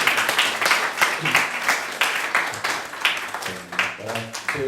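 Congregation applauding during a church worship service, a steady patter of many hands clapping with brief fading voices near the end.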